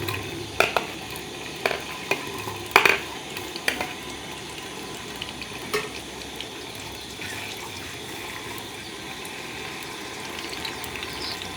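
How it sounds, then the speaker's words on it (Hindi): Onions frying in ghee in a cooking pot on the stove, a steady sizzle with a few sharp stirring clatters early on, moderately close and with no talk. "अब हम इसमें प्याज डालेंगे।"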